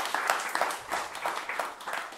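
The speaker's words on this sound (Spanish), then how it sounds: "Buen aplauso, gente." An audience claps in short rhythmic bursts, bright and fairly close, with a few voices mixed into the crowd noise.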